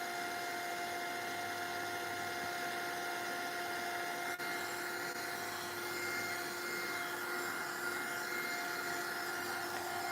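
Heat tool blowing over a waxed collage, a continuous even whirring drone with a steady airy hiss that holds unchanged throughout, close and moderately loud.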